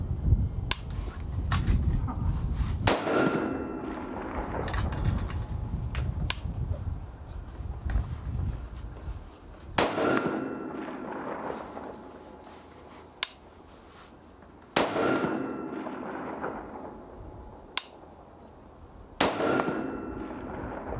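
Sharp rifle reports from an MK12 Mod0 clone firing 77-grain MK262 loads, four loud cracks spaced several seconds apart, each with a ringing decay outdoors.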